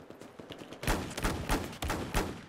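Desert Eagle pistol fire in the video game Battlefield 4 at a dam, with several loud single shots spaced about half a second apart over background battle noise.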